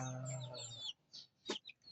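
Chickens brought from the Visayas cluck and call at close range, a drawn-out crowing note followed by a few short, sharp clucks.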